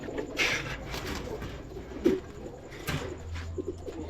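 A pair of Black German Shield pigeons in a loft, giving soft, intermittent coos and brief calls at close range over quiet background rustling.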